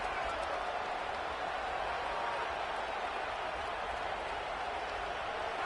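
A stadium crowd in a college football video game, Ohio State versus Georgia, cheers and claps in a steady, distant roar with no distinct voices.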